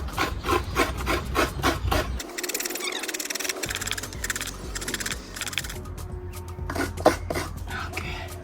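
Coconut is scraped by hand for a Fijian dish, making repeated close, rhythmic rasping strokes that run together in places and then resume in a regular beat.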